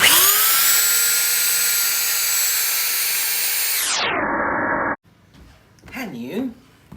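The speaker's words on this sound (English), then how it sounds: "We got the belt sander thing." A belt sander works on a door, a loud, steady high whine that winds down and stops partway through, followed by a short quiet stretch with people talking.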